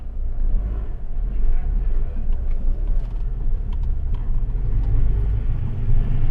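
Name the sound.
car pulling away in first gear at Mondello Park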